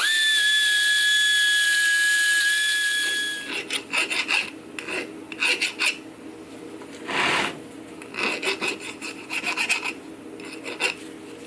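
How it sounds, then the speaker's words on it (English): A hand file rasps burrs off a metal part during a rebuild of a 1979 Toro 826 snowblower with an 8 hp Briggs & Stratton engine. Short, close strokes come in quick bursts after a brief high steady whine. "I'm just going to remove some burrs."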